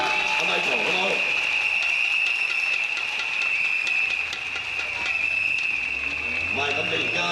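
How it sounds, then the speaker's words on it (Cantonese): An audience applauds at a League of Social Democrats rally in Hong Kong, with sustained dense clapping, a steady high-pitched tone over it and voices mixed in. "大家俾啲掌聲鼓勵下阿 Michael"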